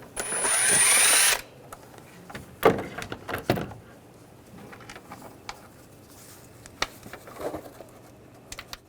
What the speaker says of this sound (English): Now we're going to take these screws out. Just use a 5mm hex socket.